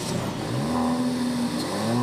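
A 2-liter turbocharged inline-four in an Alfa Romeo Stelvio revs steadily, its engine note rising and holding close and loud for a couple of seconds with no talk.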